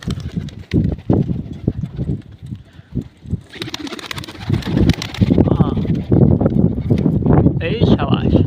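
Pigeons at a pigeon loft in Kuwait, with rapid wing flaps and scattered cooing close by, mixed with bursts of nearby talking and calling.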